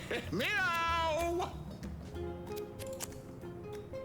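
A drawn-out cat meow rises and falls early on, followed by softer mews over a quiet game-like background, from the video game Mewgenics.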